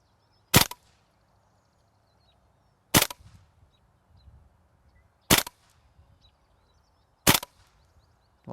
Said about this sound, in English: let's test out the accuracy, and we're going to see what it is on semi-auto first, and Barry should be good to go